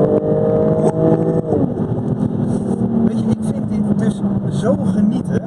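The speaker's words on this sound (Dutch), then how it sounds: "Niet naar ons luisteren, gewoon naar die auto." A Jaguar F-Type 400 Sport driving, its engine droning steadily from inside the cabin with a shifting pitch as it changes revs, loud and continuous, with people occasionally talking over it.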